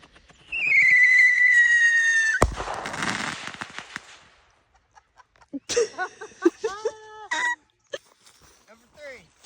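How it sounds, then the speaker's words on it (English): A Great Grizzly strobe rocket firework launches with a loud rising whistle that ends in a sharp bang and a stretch of fizzing crackle. Loud, wavering calls that sound like voices or crowing follow. "Strobe rocket, number two. By Great Grizzly."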